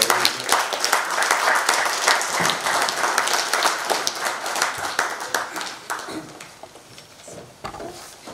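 Audience at an international economic forum applauding the arrival of Belgian minister André Flahaut, a dense burst of clapping that holds strong and then thins out toward the end.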